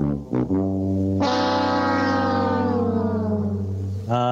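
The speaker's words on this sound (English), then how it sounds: "we get to pull the loser horn out here twice today" A loud, buzzy horn blares a sustained tone that sags downward in pitch, like a comic losing fanfare, preceded by a couple of short blasts.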